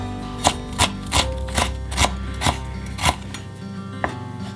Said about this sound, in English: Now cut the turmeric into thin slices. Now do the same with a 1-inch piece of ginger.